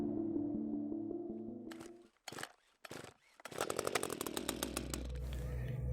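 A chainsaw idles with a steady buzzing drone, cuts out with a few sharp knocks, then revs back up loudly and keeps running close by.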